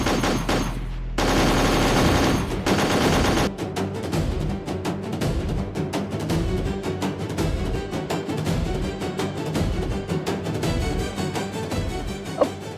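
Gunfire from guns in a Marathi TV drama: after a brief musical opening, a long run of loud, rapid shots and bursts rings out, dense and repeated, with no one talking.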